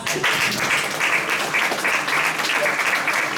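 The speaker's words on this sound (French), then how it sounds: "Allez, on applaudit le Seigneur." Church congregation applauding during a service, dense continuous clapping throughout, fairly loud and evenly sustained with faint voices mixed in.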